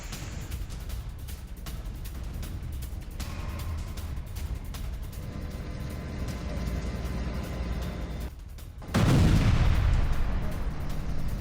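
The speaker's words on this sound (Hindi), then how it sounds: "एक तरफ इराक में धमाका, दूसरी तरफ सीरिया में धमाका।" Blasts from attack footage in Iraq and Syria, including a strike on a radar battalion, roll as a continuous heavy rumble of explosions and gunfire, with a louder, fuller burst near the end and no talking.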